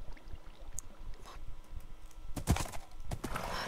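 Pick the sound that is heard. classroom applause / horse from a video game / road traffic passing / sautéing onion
horse from a video game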